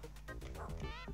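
A dog barking in a Mega Drive video game, a few quick, yippy barks in close succession over a low background hum.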